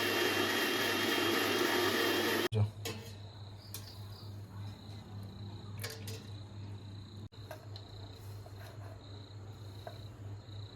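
A grinder churns soaked raw rice, grated coconut, cooked rice and yeast into batter with a loud, steady whirring roar that cuts off abruptly after a couple of seconds, leaving a low hum and a few faint ticks.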